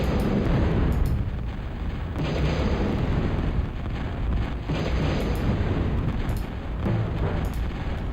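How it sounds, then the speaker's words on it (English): Explosions battering a gate in the real-time strategy game Total Annihilation, a dense, continuous rumble of booming blasts and bursts layered over each other at steady high volume for several seconds. "it destroyed the gate, right? It destroyed the gate. I could hear the sound."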